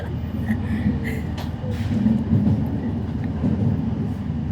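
An RER C Z20500 commuter train running between Paris stations, a steady loud rumble and rolling rattle heard from on board, with faint clicks of the track.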